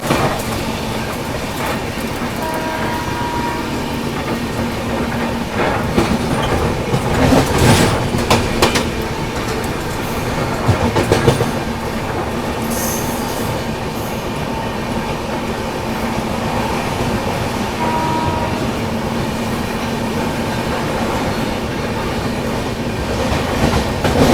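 The Chennai–Trivandrum AC Express rolls along steadily near sunrise, a continuous loud rumble from inside the coach with rhythmic wheel clatter and occasional metallic squeals.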